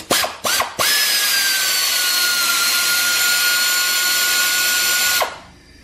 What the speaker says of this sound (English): We got this band clamp right here. It's gonna be a 11mm. We're just gonna loosen it up.